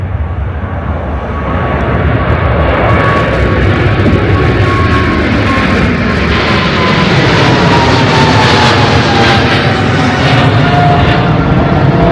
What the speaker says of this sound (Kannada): ಇನ್ನೊಂದು ಫ್ಲೈಟ್ ಬಂತು